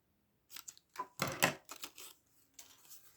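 A new die set cuts a paper card border, giving a few crisp, close crunches and clicks in a short irregular run, the sharpest one in the middle.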